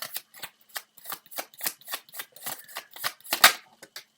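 Tarot cards are shuffled by hand in a quick run of crisp riffling bursts, close and clear, with no speech.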